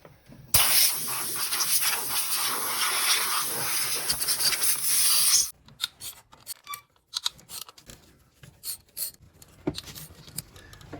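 Compressed air hisses loudly and steadily for about five seconds as debris is blown out around the valve gallery of a Ford Ranger 3.0 engine, then gives way to scattered clicks, scrapes and tool handling.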